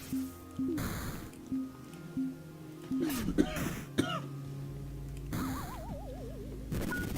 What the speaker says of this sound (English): now I've started coughing